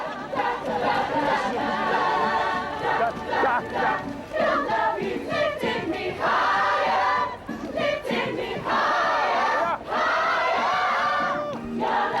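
A flash mob crowd cheers and yells in loud, continuous bursts of massed voices, with chatter and shouts swelling and dipping over several seconds.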